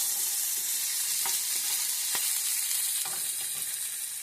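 A shakshuka base of onion fries in a pan with a constant hissing sizzle, joined now and then by soft crackles and stirring scrapes, moderately quiet and with no voices.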